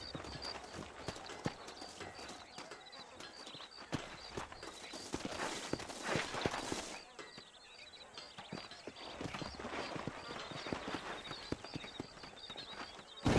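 Horses' hooves clip-clopping across open ground in the game Red Dead Redemption, a herd's steady overlapping hoofbeats, fairly close and continuous, with a brief softer stretch midway.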